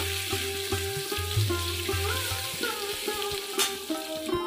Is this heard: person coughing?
no